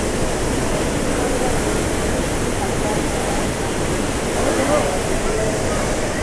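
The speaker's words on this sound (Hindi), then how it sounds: "अभी हम आ गए हैं रीवा वाटरफॉल पर" Riva waterfall at Barog in Himachal Pradesh pours in a constant, loud broadband roar of falling water heard up close, with someone speaking over it.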